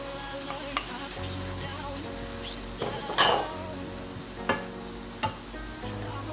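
Onions going into a pan of leftover shrimp juice for shrimp samosa filling, with a steady sizzle and several sharp clinks and scrapes of a utensil against the pan; no talking.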